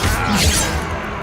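A Confringo fire spell cast in Hogwarts Legacy, a single brief, bright burst with a crackling, shattering edge, loud and close with no pause in it.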